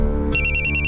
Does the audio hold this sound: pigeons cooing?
no